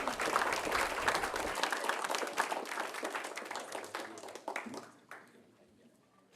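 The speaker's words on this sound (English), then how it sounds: "Another round of applause for Steven Hayward." Sustained applause from a conference audience, a dense wash of many hands clapping that stays strong for several seconds, then thins into scattered claps and fades out near the end.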